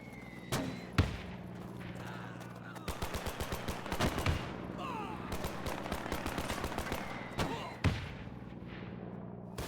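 WWII battle in the real-time strategy game Men of War II, with mortar thuds and machine gun bursts, including a long rapid burst in the middle, over a constant low battlefield rumble.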